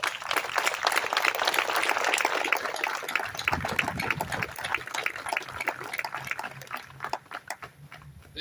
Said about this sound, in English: So please join me in a warm round of applause for our veterans organizations here today.